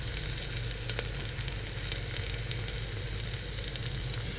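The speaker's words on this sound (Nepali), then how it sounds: "यो चाहिँ रातो भएर पाकिसक्यो प्याज" Onions frying in oil until reddish for egg biryani, a dense, continuous sizzle with fine crackles throughout, steady and close with no talking.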